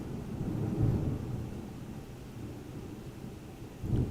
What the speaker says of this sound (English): People can hear the storm.